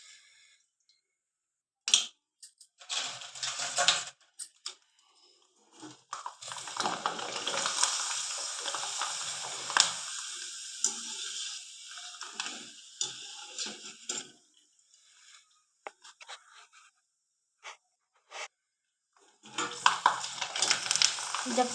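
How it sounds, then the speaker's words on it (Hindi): Potato chips frying in hot peanut oil for a fasting snack, bursts of bubbling sizzle that rise and fall with silent gaps between, plus occasional clicks of a utensil, close and fairly soft, no talking. "तेल अच्छे से गरम हो जाए और जोर तेल में इनको फ्राई करेंगे"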